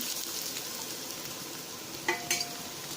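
Small onions sautéing in a pan with ginger and garlic for a mushroom coconut soup: a continuous close hiss and sizzle, with a couple of metallic clinks from stirring near the end.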